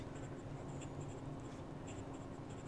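A fountain pen with a fine nib and brown ink scratches softly across paper in a steady, close, quiet stroke pattern with light feedback.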